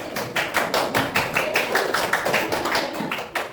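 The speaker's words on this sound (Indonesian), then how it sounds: "Tepuk tangan buat kelompok 2." A school class claps for a group of students in a rhythmic pattern, about a dozen crisp, evenly spaced beats in quick succession with no talk over them.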